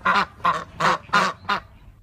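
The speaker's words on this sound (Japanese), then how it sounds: "迷子になったアヒルの子がガーガー泣いている。" Five loud, nasal quacks in a steady rhythm, close and alone, like a duckling calling repeatedly.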